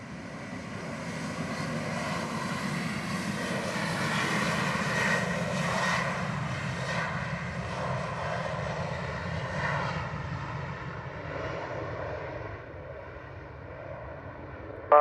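A Southwest airliner takes off from runway 07 at Montego Bay, its jet engines roaring steadily at a distance and slowly fading toward the end, with no voices over it.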